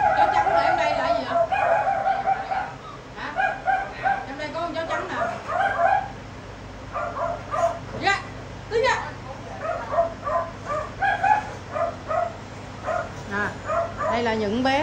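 Dogs rescued from a slaughterhouse bark, yip and whimper in a rapid, continuous chorus at close range, with people talking among them over a steady low hum.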